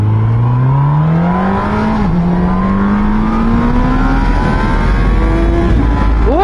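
A Honda sport motorcycle engine in sports mode revs and climbs steadily in pitch as it accelerates hard, the roar close and continuous, then a brief shift near the end.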